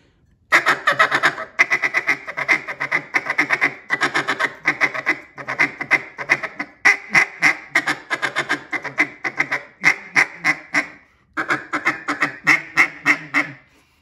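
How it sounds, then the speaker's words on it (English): A duck call blown in repeated short quacking bursts, a rapid feed chatter mixed with hen calls, loud and close with brief pauses between runs. "have your buddy just doing that little short feed with a little bit of hen"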